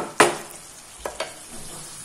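A spoon stirs marinated chicken biryani ingredients in a pot, one sharp scrape followed by two softer stirring clicks, close and quiet with no talking.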